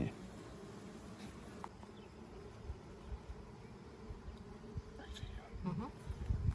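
Honey bees, including a larger drone, hum continuously around a hive, a low close buzzing that stays fairly steady with slight swells, while a person talks quietly nearby.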